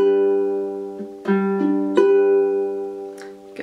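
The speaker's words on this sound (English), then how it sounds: "the first finger picking pattern that we're going to learn sounds like this." A ukulele plays a gentle fingerpicked pattern, single notes ringing and overlapping in a steady rolling sequence, close and clear with no voices.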